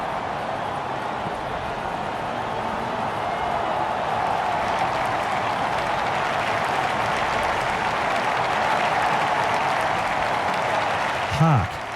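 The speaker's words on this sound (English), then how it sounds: "The crowd are on their feet, cheering their home team hero to complete his hat-trick." A cricket video game crowd in a T20 international match applauds and cheers steadily as the home side chases a hat-trick, a dense, continuous roar of clapping that holds throughout.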